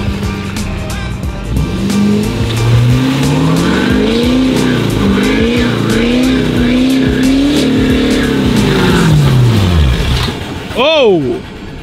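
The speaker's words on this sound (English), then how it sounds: "On to the last one, burnout and donut." A modified SEMA show truck on duct tape tires does a burnout and donut, the engine revving hard and droning with rising and falling pitch under tire noise, loud and close, with people talking over it.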